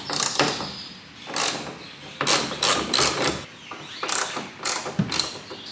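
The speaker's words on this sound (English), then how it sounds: "It takes a 10mm socket to pull off the screws or the bolts" A ratchet with a 10mm socket backs out the tail light screws on a 2023 Toyota Tacoma, making close, loud bursts of rapid clicking separated by brief pauses.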